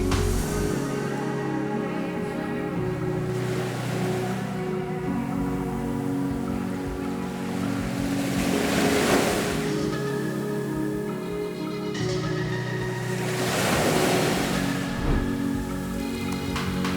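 Waves of the South China Sea in Indonesia wash in over a constant background, with two loud surging crashes rising and fading several seconds apart.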